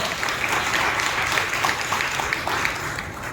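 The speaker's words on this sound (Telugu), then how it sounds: "చప్పట్లు బట్టి ప్రభువును మహిమపరుస్తారు" A church congregation applauding to praise the Lord at a Christmas sermon: sustained, dense clapping from many hands, loud and even throughout with no break.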